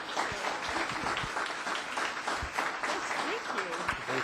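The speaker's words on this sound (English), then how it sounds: "Let's give them a round of applause." Audience applause at a town council meeting: a steady, dense wash of clapping from a room full of people, fairly even in loudness throughout, with a few voices murmuring underneath.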